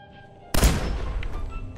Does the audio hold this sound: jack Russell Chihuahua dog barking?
no